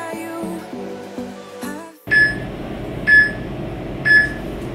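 A workout interval timer gives three evenly spaced, loud electronic beeps about a second apart over a dense noisy background, following a stretch of plucked, tonal music notes.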